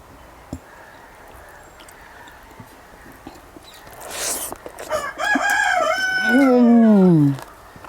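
A rooster crows once, loud and close, its call rising and then sliding down in pitch over about two seconds against a quiet background with a few faint knocks.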